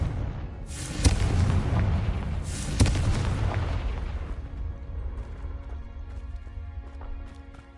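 An explosive Confringo spell goes off in a video game, with two sharp booming blasts a couple of seconds apart followed by a rumbling decay and faint ambient game sounds.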